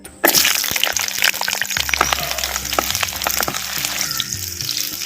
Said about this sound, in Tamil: இப்போ உரிச்ச சின்ன வெங்காயம் பத்து சேர்த்துக்கிறேன்